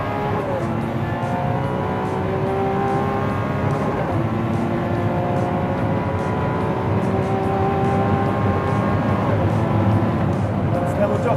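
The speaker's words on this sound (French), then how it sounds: "On a l'impression d'être dans une fusée en carbone avec cet énorme V12 atmosphérique qui demande qu'à respirer." Naturally aspirated V12 of a Lamborghini Centenario on the road, a sustained engine drone with rising and falling harmonic pitch as it pulls and revs, heard from inside the car under continuous talk.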